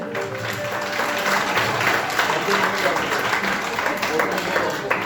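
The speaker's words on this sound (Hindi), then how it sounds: "इनके लिए तालियां हो जाएं।" A crowd applauds children performing yoga at a school yoga camp in Garhdiwala, with dense, continuous clapping for several seconds while a voice speaks over it.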